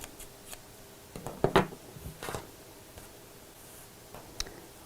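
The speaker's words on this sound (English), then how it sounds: "So let's just trim my threads." Scissors snip through loose sewing threads on a fabric Christmas stocking, a few quick, quiet cuts close by with faint handling rustle between them.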